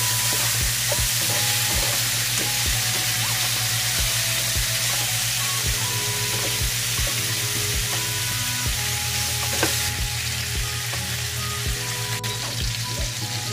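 Meat browning for adobo sizzles and crackles steadily in a hot pan, a dense close frying hiss with occasional stirring knocks, no voices.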